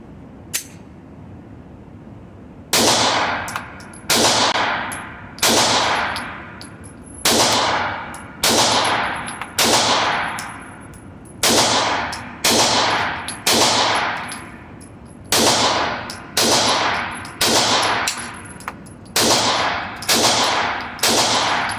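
A Sig P365 Micro pistol fires rounds at an outdoor range, loud sharp shots in a steady series of roughly a dozen, each with a ringing decay, no talking.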